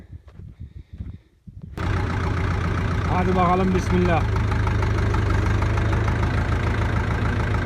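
A tractor engine starts up loud and then runs steadily and close while pulling an inter-row cultivator through a sunflower field, with someone speaking briefly over the start.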